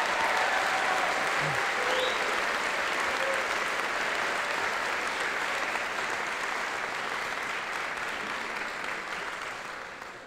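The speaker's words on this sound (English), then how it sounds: "Can we get another round of applause for the class of 2022?" A large audience at a high school honors convocation claps steadily and evenly for about ten seconds, a dense wash of applause that fades slightly at the end.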